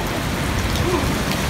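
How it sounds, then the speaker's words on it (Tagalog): Heavy rain in Dubai pours down steadily, a dense, loud, unbroken wash of close rainfall with no pauses. "Lakas ng ulan, oh."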